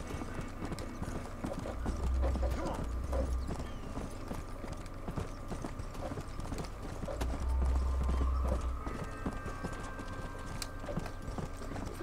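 Horse hooves gallop at a steady clip-clop rhythm through a Red Dead Redemption game world, loud and close, with rhythmic low thuds swelling periodically over continuous game ambience.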